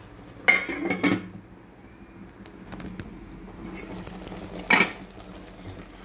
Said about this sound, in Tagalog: Takpan natin ulit.